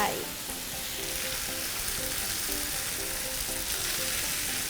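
Mama instant noodles with bacon stir-fried drunken-noodle style in a pan, a continuous loud sizzle with light rhythmic ticking and stirring, no talking.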